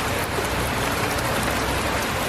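Heavy rain pours steadily during a summer weekend, a dense, loud, even hiss of drops on surfaces with no gaps and no talking.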